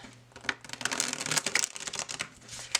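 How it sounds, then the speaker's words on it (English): A thin-cardstock tarot deck being shuffled up close, quick soft riffles and crisp card flutters in short irregular bursts, fairly quiet with no talking. "it shuffles like a dream"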